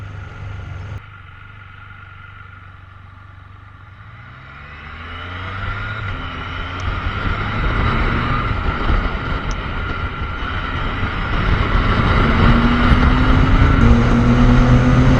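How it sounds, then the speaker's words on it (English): Riding a 2018 Can-Am Spyder F3S three-wheel motorcycle along a highway: a steady engine drone that builds as speed rises, with gear-change pitch sweeps and heavy wind rush over the microphone, no talk. "I am very pleased to show you the 2018 Can Am Spyder F3S. I am taking a short ride down Highway 79"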